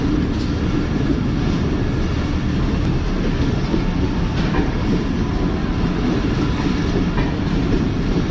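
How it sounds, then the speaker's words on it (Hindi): The Tezgam passenger train rolls steadily toward platform number 1, a continuous loud rumble with faint rhythmic clicks of wheels on track and no voices. "हमारी ट्रेन प्लेटफॉर्म नंबर 1 की तरफ बढ़ रही है।"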